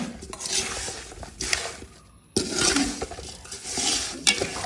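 Beef pickle with oil and chili powder is stirred in a pan in repeated close, rough scraping strokes, broken by a short pause before the stirring resumes with a low sizzle beneath it.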